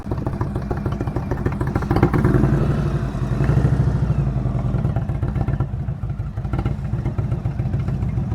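A motorcycle rolling at slow speed during advanced low-speed riding practice, its engine running steadily throughout with a continuous mid-pitched drone, near and fairly loud, with slight swells in throttle.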